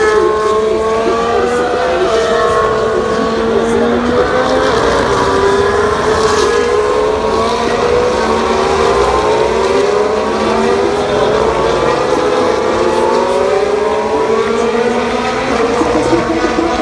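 Formula 1 cars race past in a continuous loud roar, several high-pitched engines overlapping with rising and falling pitch sweeps as cars close up and pull away on track.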